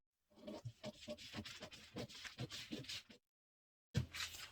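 Scissors cut through dress fabric for an off-shoulder gown in a string of close, rhythmic snips and rasps, a short pause, then another cut resumes.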